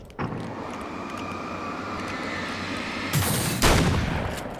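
A rapid-fire weapon in Alan Wake's American Nightmare fires fast, continuous bursts of gunshots, close and loud, and a couple of heavier blasts come near the end.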